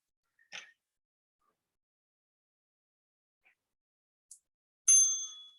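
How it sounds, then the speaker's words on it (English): A workout interval timer bell dings once, bright and clear with a ringing tail, after a few faint taps in an otherwise quiet gym setting. "And there's your bell"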